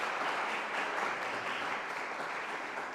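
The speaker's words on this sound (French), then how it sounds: "Bonne main d'applaudissement." A church congregation gives a round of applause during a blessing ceremony, a steady wash of many hands clapping that fades slightly toward the end, heard somewhat faintly and without voices.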